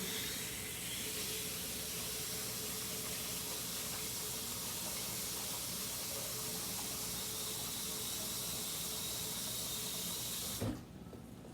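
Steady running water pours into a pot without a break, a continuous broadband hiss that ends with a short clunk near the close. No voices.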